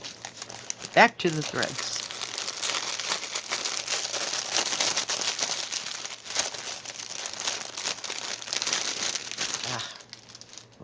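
New plastic packaging from a pre-stamped cross stitch kit crinkles and crackles up close, in dense, busy bursts that run almost continuously, while a person talks intermittently over it.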